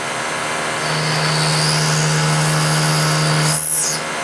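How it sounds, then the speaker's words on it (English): An end mill on a milling machine plunge-cutting a slot makes a continuous, loud, steady machine drone with a low hum and a faint high whine that trails off at the very end. "I'm going to plunge cut down to my stop."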